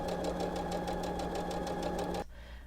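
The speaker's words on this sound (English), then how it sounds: "I'm now going to continue stitching and end up back where I started" Sewing machine stitching quilt binding, a rapid, even mechanical stitching rhythm, close and steady, that stops abruptly near the end.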